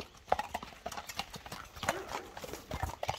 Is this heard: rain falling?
no